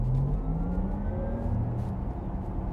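A Porsche Taycan 4S Cross Turismo electric car accelerates gently from a stop, its motor giving a smooth, rising whine over a steady rumble of road and cabin noise, with no voices.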